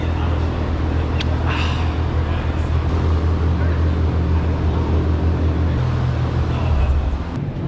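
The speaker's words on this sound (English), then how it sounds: "we know that you just built a custom exhaust for this car" A steady, deep car engine rumble through a custom exhaust, a throaty low drone, loud and close, holding at idle with a slight rise near the end.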